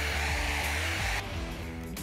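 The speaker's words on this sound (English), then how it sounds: "I need to go back in with the heat again to warm up the paint for more pushing." Heat gun warming the painted panel of a BMW 325i during dent removal, a loud steady blowing whoosh with motor hum that drops slightly in the second half.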